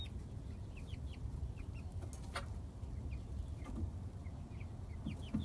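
Ten-week-old chickens spending their first full day outside in an outdoor coop give soft, scattered clucks and chirps over a steady low background hum, with no voices.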